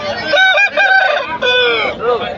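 A long-tail rooster crows loudly and close at a country chicken market in Mydukur, Kadapa, two drawn-out crows in quick succession followed by a short trailing call, with no talk over them.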